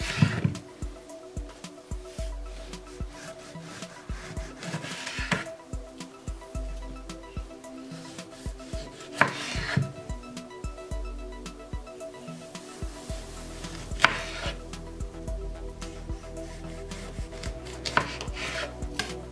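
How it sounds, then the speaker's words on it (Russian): A homemade knife made from a metal ruler chops thin slices on a board, with sharp repeated cuts at an irregular rhythm and some light clatter between strokes. "Таким ножом можно нарезать даже такие тонкие дольки."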